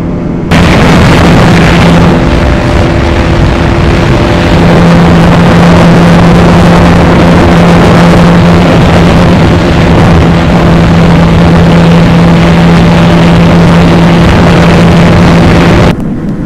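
Motorcycles including Pulsar NS200 BS7 and BS6, Yamaha R15M and Pulsar F250 drag race, their engines a loud, continuous, distorted roar with rising tones and heavy wind buffeting throughout.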